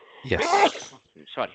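A single sneeze bursts out loudly in a quiet indoor room, and a short spoken apology follows right after.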